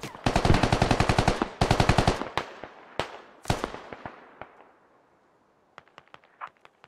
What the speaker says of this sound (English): are just firing from a far off position.